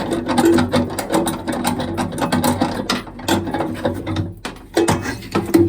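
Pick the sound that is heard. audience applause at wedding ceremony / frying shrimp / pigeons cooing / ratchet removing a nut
ratchet removing a nut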